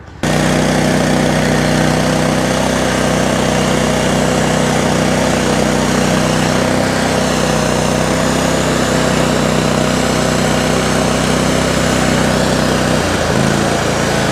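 A small engine idles loudly and steadily close by, a constant droning hum that dips briefly near the end, with no voices.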